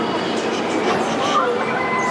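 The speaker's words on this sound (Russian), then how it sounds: "сейчас поезд отправится в путь" An amusement park ride train pulls away with a steady rumble and rolling wheel noise at close range, and people talk over it throughout.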